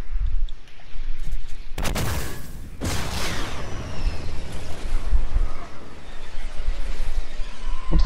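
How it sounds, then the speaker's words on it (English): Rockets fire and explode in a video game, two sharp loud blasts close together followed by a long rumbling wash of debris and noise. "Oh, rockets."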